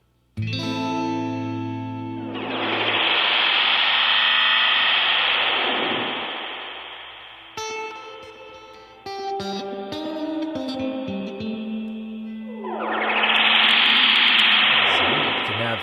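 A BOSS RV-200 reverb pedal in twist mode, with a washy, swirling reverb that swells up, fades out and builds again. A bright shimmering wash sits over sustained guitar notes, loud and close, with no talking.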